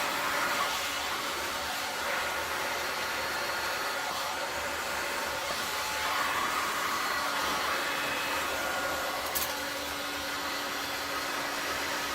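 A hair dryer blows on resin with a steady, close whooshing roar that barely changes over the whole stretch.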